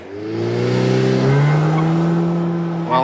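The reasonably priced car on the Top Gear track, driven by Boris Johnson, with an engine revving through gears and tires squealing as it corners, loud and close.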